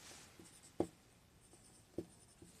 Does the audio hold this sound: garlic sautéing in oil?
no